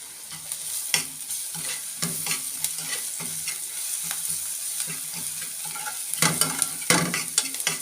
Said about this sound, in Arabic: في المرحله دي كده خلاص هنحط الثوم